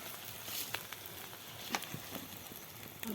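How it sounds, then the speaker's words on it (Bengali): A quiet, steady sizzle comes from kochur loti and small river fish frying slowly over low heat in a pan, with faint scattered ticks and pops nearby and no talking. "এই যে এরকমভাবে ঘুরে ঘুরে একটু ভাজলে পরে এদিকে রসটা যাবে সিদ্ধ হয়ে যাবে সুন্দরভাবে ভাজা"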